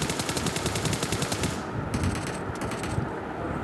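Automatic gunfire in PUBG Mobile rattles in rapid, loud bursts at close range, a dense stream of shots that briefly thins and then resumes, with no talking.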